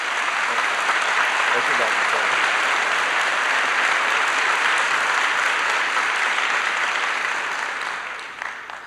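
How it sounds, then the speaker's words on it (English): A large crowd at a 1984 campaign rally gives Dr. Gardner Taylor a long, loud round of applause, a thick unbroken roar of clapping that tapers off at the end while someone speaks briefly over it. "Let's give Dr. Taylor a big round of applause"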